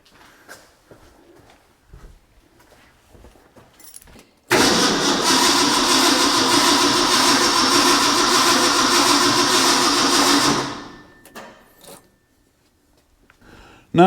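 A Ford F100 engine cranks with starting fluid in a loud, continuous burst of about six seconds, then winds down and stops, with quiet ambience before and after.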